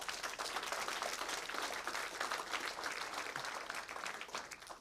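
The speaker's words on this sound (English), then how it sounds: "Can we get a round of applause for that?" Graduation audience breaks into full, continuous applause, a thick wash of many hands clapping at once that holds strong for about five seconds and eases slightly at the end, with no voices over it.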